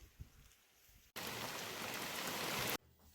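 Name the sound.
rain falling during the rainy season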